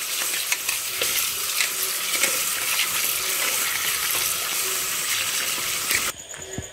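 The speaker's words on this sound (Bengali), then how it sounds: "চালটা ধুয়ে নিচ্ছি প্রথমে।" Rice being washed in water for a Bengali basanti pulao, a steady wet swishing and stirring rustle running close and continuous, then cutting away sharply near the end.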